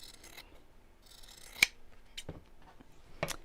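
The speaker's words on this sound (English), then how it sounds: "I'm just going to trim the seam back just around the top bit" Scissors trimming a fabric seam around the top of a sewn piece, a few quiet separate snips with faint rubbing of cloth between them.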